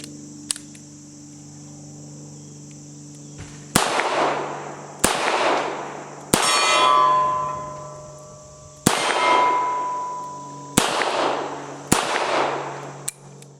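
Six sharp, loud gunshots from a Night Guard 325 revolver with factory Pachmayr grips at a shooting range, fired slowly with pauses of one to three seconds, each crack ringing briefly before fading.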